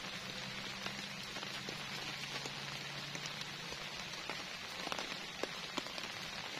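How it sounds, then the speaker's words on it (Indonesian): Rain falls on a tent at night during solo camping, a soft, fairly quiet patter with scattered louder drops tapping the fabric and a faint low hum beneath, with no voices. "nggak taunya beneran malam ini hujan"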